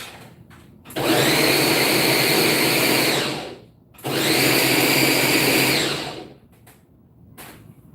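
Ninja blender with a suspect switch, making salsa, whirs loudly in two bursts of about three and two seconds, separated by a brief pause, then cuts off.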